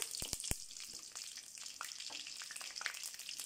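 Mustard seeds and lemongrass hit hot oil for a traditional goat-leg soup, giving a few sharp pops at the start, then a soft continuous crackling sizzle with scattered spits, quiet and close, no talking.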